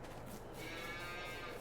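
Cattle in Farming Simulator 22 lowing on a farm in the evening, one long, quiet moo drawn out over ambient farmyard noise, with no talking.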